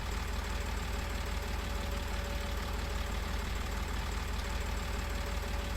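A tractor engine runs steadily at a low idle-like throb while lifting silage with front spikes, a continuous loud mechanical rumble with no pauses and no talk.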